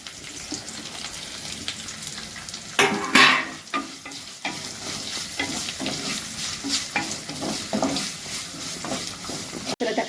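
Onions fry in hot oil with fennel, bay leaf, cinnamon and curry leaves for a Tamil crab masala and prawn thokku. A steady, fairly soft sizzle runs under bursts of stirring and scraping in the pan.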